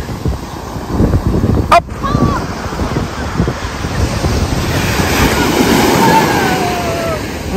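Strong wind buffets the microphone over rolling surf on a beach, with a brief sharp click and a short exclamation from a voice early on.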